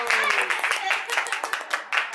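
Family clapping at home to celebrate a young girl's skating medal after the birthday-style cake is blown out, quick uneven hand claps mixed with voices and chatter, fairly close.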